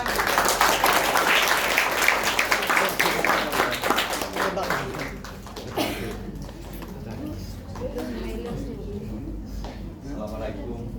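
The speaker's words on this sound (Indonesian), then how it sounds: "Tepuk tangan." An audience claps after a drama performance at Universitas Madura, with dense, sustained applause that fades after about six seconds, while voices talk over it and continue afterward.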